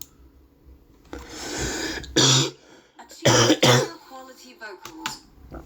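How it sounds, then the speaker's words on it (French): Several harsh, pollen-triggered coughs and throat-clearing bursts in quick clusters, close and loud, separated by short quiet gaps. "Désolé, je tousse, hein, c'est le pollen"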